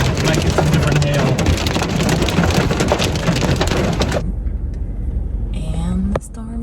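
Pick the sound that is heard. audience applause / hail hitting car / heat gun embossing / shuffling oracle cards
hail hitting car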